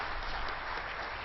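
Audience at a poetry recital claps together in a continuous, even patter of applause, somewhat muffled and moderate in level, lasting just over a second.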